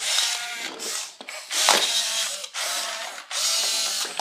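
Whirring mechanical motor and gear noise from an i-Cybie robot dog toy moving around, in several bursts separated by short pauses, close by, with clicks and rattles as parts move.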